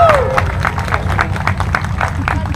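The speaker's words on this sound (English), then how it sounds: "Give him a round of applause." Crowd applause and clapping in victory lane at Clay County Speedway after a race, a steady dense patter of many hands at close range that runs the whole time with no talk.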